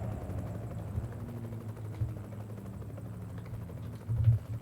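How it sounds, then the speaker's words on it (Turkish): A helicopter in the truck-driving game Euro Truck Simulator 2 gives off a steady, loud, low rotor thump that drones throughout. It swells a little near the end, with no talk over it. "Burada da bir helikopter var."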